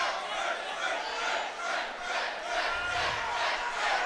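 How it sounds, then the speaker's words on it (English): A high school wrestling crowd in a gym, Ontario versus Clear Fork, cheers and shouts steadily throughout, a dense roaring mass of voices with rising and falling swells. "Now the crowd's getting back in it."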